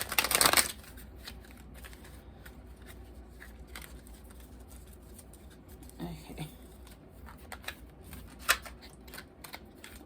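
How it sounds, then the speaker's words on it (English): A tarot card deck is shuffled in a quick burst of crisp riffling near the start, then scattered card handling and light taps continue under occasional speech. "I hate shuffling this."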